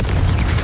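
Confringo fire spell from Hogwarts Legacy bursting in a deep, booming explosion that rumbles for a moment, loud and close with no voices.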